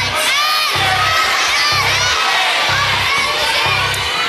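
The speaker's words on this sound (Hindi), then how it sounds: "कितना चिल्ला रहे हो तुम लोग।" A studio audience of children on a televised quiz show shouts and cheers loudly and continuously, a dense roar of young voices over a rhythmic pulsing beat.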